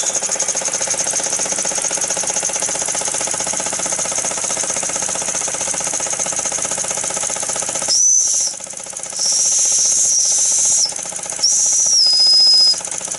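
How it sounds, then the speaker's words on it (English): A Jensen toy steam engine whistle gives three shrill, wavering blasts after a stretch of steady motor hum, the last one dipping slightly in pitch. "Jensen whistles work, sort of."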